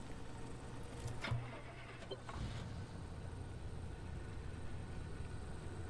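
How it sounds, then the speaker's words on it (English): An in-game car engine cranks and starts in the video game Pacific Drive, a brief mechanical burst followed by a steady low rumble, fairly quiet and with no talking. "Start the engine."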